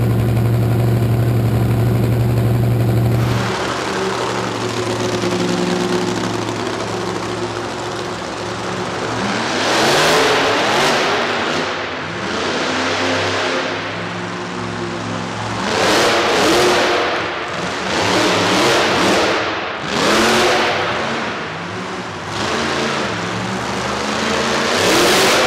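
Monster truck engines roar at Monster Truck Nationals in Corbin, Kentucky, on a concrete arena floor: a steady idle gives way to repeated loud, surging revs and bursts of throttle across the whole stretch, with no voices.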